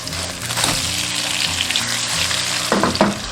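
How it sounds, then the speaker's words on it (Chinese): Tofu slices pan-frying over medium-low heat give a steady, close sizzle and crackle throughout, with a few brief clinks of a utensil near the end. "把豆腐这样煎一下，等一下更容易吸收汤汁"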